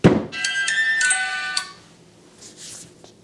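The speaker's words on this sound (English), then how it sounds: "if anything interacts with your phone, the music plays" A ghost hunting phone app sets off a bright electronic alarm tune when a desk is tapped, a short melodic ringtone-like burst after a thump, then fading to faint quiet.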